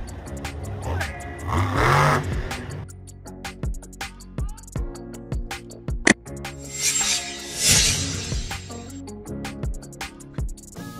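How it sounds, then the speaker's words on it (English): A monster truck engine bursts in and out in loud revving surges, with sharp tire squeals and a series of short engine blips between them. A single heavy bang lands in the middle. "Monster truck."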